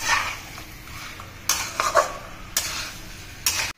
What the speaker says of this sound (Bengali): ওই জন্য ছোট দুটো টমেটো অ্যাড করে দিলাম। এটাকে এবার ভালো করে